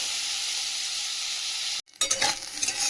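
Potato, onion and cooked rice fry in a pan with a loud, steady hiss that cuts out for a moment, then returns with scraping and stirring crackles.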